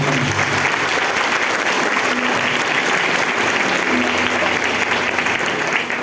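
A church congregation applauds after a Bible reading during a Portuguese-language sermon, a loud, continuous crowd of hands clapping close by with a faint low hum beneath it, no speech.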